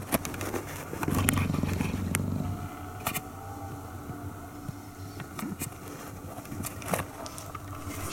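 An adult cheetah's low, rumbling purr swells near the mic for about two seconds inside its enclosure at night, then fades to quiet breathing and light rustling with a few soft clicks.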